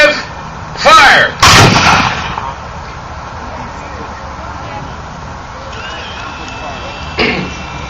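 A volley of matchlock muskets goes off in two sharp, loud blasts at a pike and shot demonstration. A further shot sounds later, and voices carry between the reports.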